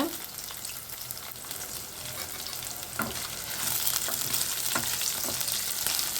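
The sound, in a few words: dried red chillies frying for kara chutney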